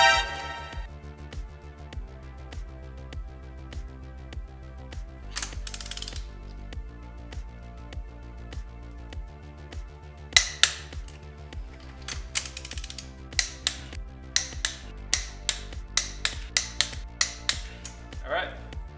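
Ratchet wrench clicking in short bursts while tightening cylinder head studs to 70 foot-pounds on an LS engine going into a Honda Civic, sharp repeated pawl clicks over a steady low background hum, with some speech.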